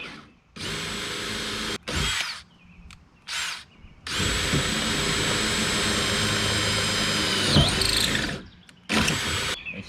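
A power drill bores holes for a retractable wheel mount on an Old Town canoe, running in a few short whirring bursts and then one long, steady high-pitched spin.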